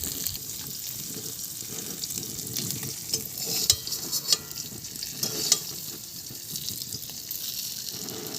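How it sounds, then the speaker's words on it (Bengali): Pieces of grass carp, cut from a six-kilogram fish, fry in a pan with a steady, even sizzle. A few sharp clinks cut through near the middle. "আবারও একইভাবে আমি মাছগুলোকে ভেজে নিচ্ছি।"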